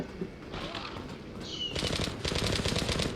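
Rapid automatic gunfire from the online shooter Zula, short bursts building into sustained close, loud machine-gun fire over about three seconds.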